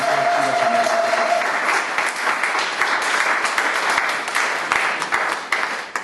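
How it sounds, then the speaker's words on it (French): A church congregation applauding at a service, sustained dense clapping from many hands filling the room, fading slightly at the end. "Acclamons d'abord le Seigneur"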